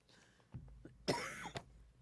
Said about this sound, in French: Ah, c'est tannant, cette toux-là.